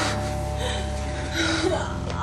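Distressed, gasping breaths from a woman having sudden seizures while awaiting an ambulance, a ragged continuous breathing sound that lasts about two seconds and stays close and fairly loud throughout.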